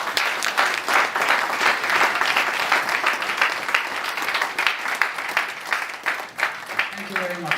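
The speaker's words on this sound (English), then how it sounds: "Please keep the applause going as he returns to his seat." Sustained audience applause fills a hall at an annual general meeting in Lagos, dense steady clapping from many people that holds throughout, with a brief voice emerging near the end.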